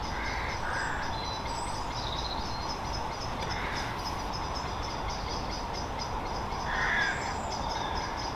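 Crows cawing in a busy yard, several harsh calls scattered across the clip over a steady background of traffic or machinery noise, with one louder call near the end.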